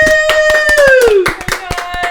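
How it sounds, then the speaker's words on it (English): Studio audience applause on a talk show, a burst of dense hand claps that carries on beneath a loud sustained voice whose pitch slides downward. "I don't get an applause like that."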